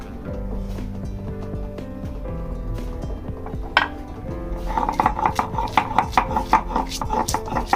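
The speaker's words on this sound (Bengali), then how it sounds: "এদিকে আমি আদা রসুন কুচিটা এখন বেটে নিব" Chopped ginger and garlic pounded into paste on a kitchen surface: a run of sharp, close knocks starts slowly and quickens into a steady rhythm, with faint clinks, under a low sustained background tone.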